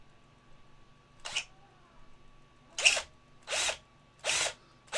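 A power drill bores into a resin Predator model kit (King Skull Valdezz) during pinning, in four short, loud, whining bursts: one alone, then three in quick succession with brief pauses between.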